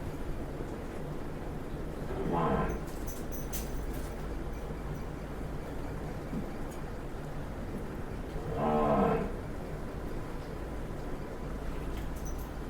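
Two low, drawn-out moos from Murrah buffalo sound a few seconds apart over steady background noise, deep and moderately distant.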